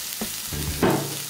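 Vegetables, julienned cabbage and small bean sprouts being tossed in a hot wok for veg Hakka noodles, a brief sizzling stir with a couple of scraping tosses.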